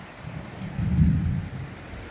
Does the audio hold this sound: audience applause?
no